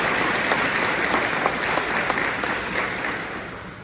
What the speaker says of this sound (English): Let's have a round of applause for the team.